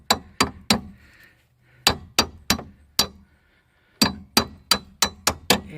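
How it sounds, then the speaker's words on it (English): Sharp metallic taps as a screwdriver drives a bolt into a rotted rear control arm on a 1999 Chrysler Sebring, loud and close, struck in quick groups of three and four with short pauses between. "Now we take our screwdriver out and tap this in,"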